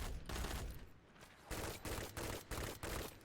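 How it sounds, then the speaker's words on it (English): Pulse rifle in Destiny 2 firing rapid bursts, a fast run of sharp, punchy shots grouped into repeated volleys with brief gaps, fairly close and with no speech. "look how much faster we're shooting. I mean, it's a spam machine."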